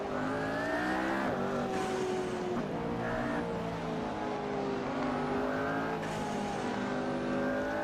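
A McLaren P1 in the Assetto Corsa racing game laps Silverstone, its engine droning loudly and sweeping up and down in pitch through shifts and acceleration, with a brief sharp spike partway through.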